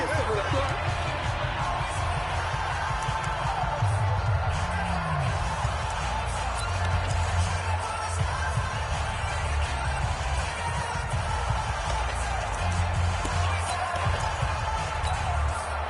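A steady roar of a football stadium crowd fills the scene in a Bills versus Eagles game ahead of a big third down, a continuous dense swell beneath a commentator talking over it.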